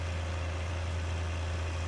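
Steady low engine idle of a cage tractor in the Farming Simulator game, a constant drone with a strong low hum and even hiss, unchanging throughout and with no talk over it.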